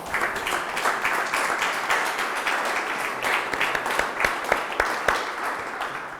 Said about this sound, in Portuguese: Agora temos de bater palmas até